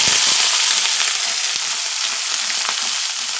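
Chopped potatoes and onions, dropped into a pan already tempered with mustard seeds, fry with a dense, even sizzle that stays loud and close throughout, hissing steadily with a few faint crackles and no talking.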